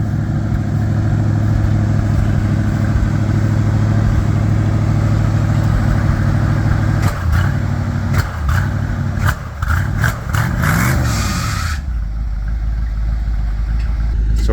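A Bombardier tracked vehicle idles while its engine warms up, a loud steady low rumble close by, with a few shifts in revs and clanks near the end.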